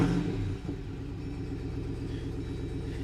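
A 2024 Jeep Wrangler Rubicon 392 V8 fires up with a loud low rumble, settling after a brief surge into a steady, throaty idle close by, with no talk over it.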